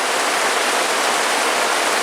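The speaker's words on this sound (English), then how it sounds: "it's raining. Thunderstorms, lightning, the whole 9 yards." Rain pours during a thunderstorm at a lake, a loud, dense and unbroken hiss of heavy drops close by with no voices.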